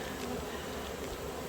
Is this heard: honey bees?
yes